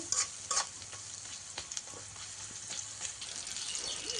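Spices fry and crackle in hot oil for potato bhaji while being stirred, a continuous close sizzle with a few scraping knocks of the spoon early on.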